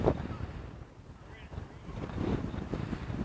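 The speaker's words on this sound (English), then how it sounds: "very strong wind today" Strong wind buffets the microphone near a volcano, a low rumbling roar that dips and swells over a few seconds.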